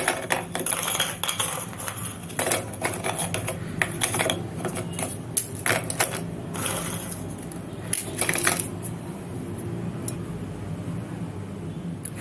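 About 130 grams of tea biscuits are ground for a simple New Year dessert, rattling and clattering in irregular hard bursts as the pieces break down, then settling into a quieter, steadier crunching.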